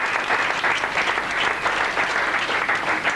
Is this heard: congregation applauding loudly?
yes